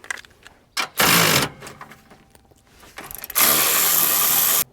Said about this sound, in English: And we'll use the ratcheting wrench.